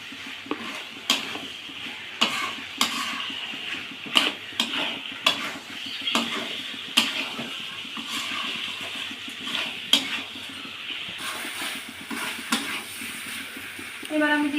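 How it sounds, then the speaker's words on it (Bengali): Chicken curry simmering in a pan while a spoon or spatula stirs and scrapes, giving repeated clinks and knocks over a soft steady sizzle, with water being added; a voice speaks now and then between the stirs. "এবার আমি জল দিয়ে দেব, আর একটু নাড়াচাড়া করে"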